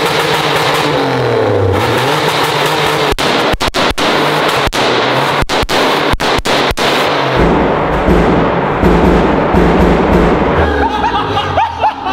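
A fake Lamborghini replica, one of Stradman's cars, revs its engine hard while being driven off-road, a loud continuous roar broken by several sharp cracks and bangs.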